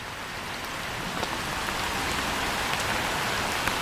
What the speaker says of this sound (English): We just had a few minutes of very heavy rain.